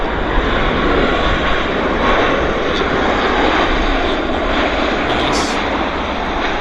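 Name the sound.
aircraft engine of a plane at Vancouver airport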